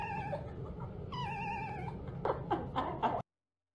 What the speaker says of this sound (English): No, no, the cat.